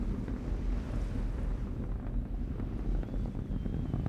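Atlas V rocket engines with solid rocket boosters thunder during the boost phase, a steady, distant low rumble and roar with wind-like buffeting, fairly faint and continuous.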